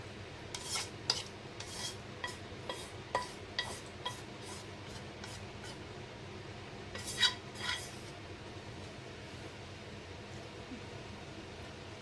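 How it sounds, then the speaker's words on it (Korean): Quiet kitchen scraping: a utensil rasps and clinks against a pan several times in short bursts while transferring stir-fried noodles to a plate, then faint background hum remains. "준비된 접시에다가 옮겨 보겠습니다"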